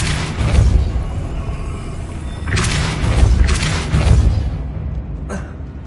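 Depulso spell cast in a Harry Potter video game, a heavy booming force blast with whooshing bursts that swell and fade over several seconds, loud and without talk.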